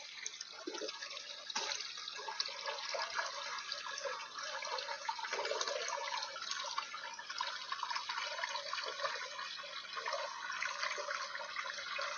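Liquid organic fertilizer mixed in water is poured onto grapevines and other tended plants, a steady splashing, trickling stream that runs continuously, close and without voices.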